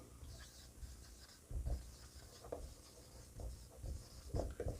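A pen writes a journal entry by hand during a commerce accounting lesson, giving faint, close scratchy strokes in short uneven bursts. No voices are heard.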